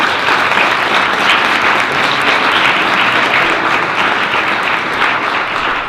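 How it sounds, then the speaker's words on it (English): A full round of applause from a school board meeting audience after a district children's concert, dense steady clapping sustained throughout with no talk over it. "I think we deserve a round of applause for all the hard work for those children."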